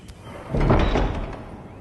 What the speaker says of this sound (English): that's the same ka-chink with all the doors.